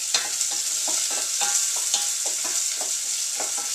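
Ingredients for shrimp bruschetta fry in a pan while being stirred, a steady close sizzle broken by repeated scraping strokes in an even rhythm.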